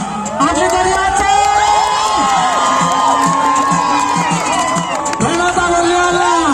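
A lively crowd cheers and shouts continuously at a triathlon finish by Lake Lut Tawar, Aceh, with excited voices calling out over the steady roar of the spectators.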